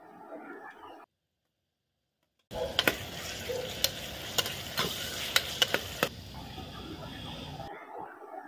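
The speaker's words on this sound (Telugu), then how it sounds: "చూడండి, పచ్చిమిర్చి వేస్తున్నాను." Green chillies drop into hot oil with chopped onions in a pan for a mutton egg curry, setting off a loud, steady sizzle with sharp crackling pops. The frying starts abruptly after a short silence and carries on for several seconds before cutting off.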